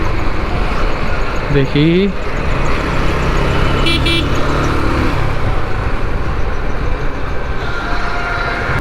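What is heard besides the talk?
road traffic while overtaking another vehicle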